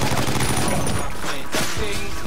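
Dense, loud gunfire with sharp repeated shots hitting a barrel in the video game 50 Cent: Blood On The Sand, continuous and close throughout.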